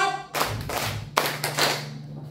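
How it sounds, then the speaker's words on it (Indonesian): A class at a school claps together in time with a count, producing two broad, loud clap bursts spaced about a second apart, close by. "tepuk 1, tepuk 2, tepuk 3, tepuk 4"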